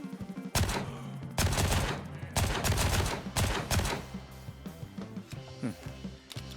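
Pistol fire in the Gray Zone Warfare shooter, several loud bursts of sharp shots in rapid clusters over the first four seconds, then sparser, fainter cracks and clatter trailing off.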